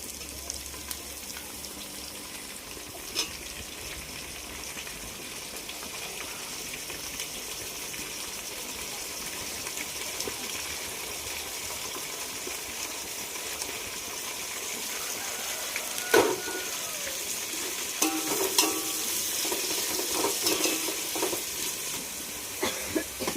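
Tomatoes fry in hot oil for a fish curry, giving a steady, hissing sizzle that grows a little louder later on. Occasional stirring clatters and scrapes of the pan come through, and no one speaks.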